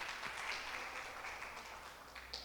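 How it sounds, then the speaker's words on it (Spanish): Audience applause at a talk, a soft, fairly distant patter of many hands clapping steadily throughout. "Un aplauso para Mau, por favor"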